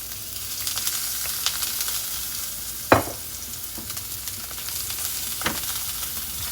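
A tuna steak sears in oil in a scorching-hot pan, producing a loud continuous sizzle with a few sharp clatters and spits, one especially strong near the middle, and no one speaking.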